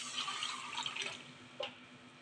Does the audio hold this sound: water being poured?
yes